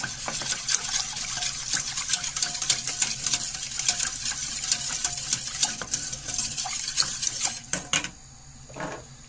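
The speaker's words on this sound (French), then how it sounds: "on verse le lait, les 500 ml de lait et on remue" Spoon scraping and clinking against a pan as 500 ml of milk is stirred in for lasagne bolognese, with soft sizzling underneath and a brief quieter stretch near the end.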